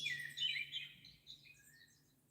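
A bird sound effect from a Roland GM-800 synthesizer, a quiet burst of bright chirping and tweeting that fades out over a couple of seconds, heard alone.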